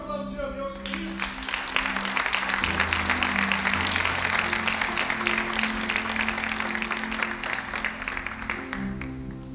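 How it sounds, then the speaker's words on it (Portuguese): A church congregation breaks into loud, steady applause that fills the hall for nearly ten seconds, many hands clapping together in a dense wash, with a sustained organ or keyboard chord ringing underneath. "Você pode aplaudir a Deus por isso?"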